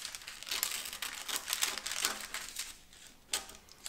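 Baking paper being crumpled and folded by hand to wrap seeds, a run of close, crisp crinkles and rustles in irregular bursts with no talk.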